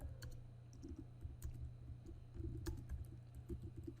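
Quiet, close computer-keyboard typing as a file name is entered, with brisk, uneven bursts of key clicks spread over a few seconds.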